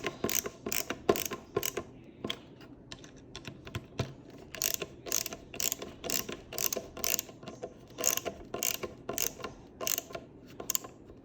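A hand ratchet or driver clicks in quick repeated bursts as screws are tightened on a school-age manger, with short pauses between runs of clicks, close up and otherwise quiet.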